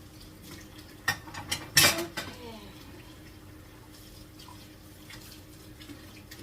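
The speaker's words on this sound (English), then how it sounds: "what I'm doing while I'm standing here washing stuff" Dishes clink and clatter in a kitchen sink under a low running tap, with a few sharp knocks of crockery and a bowl, then quieter water and faint handling.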